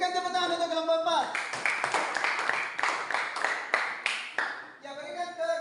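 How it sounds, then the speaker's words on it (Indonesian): A school class claps for group 4 in a short burst of brisk, fairly close applause lasting a few seconds, with a voice speaking just before and just after. "Berikan tepuk tangan untuk kelompok 4."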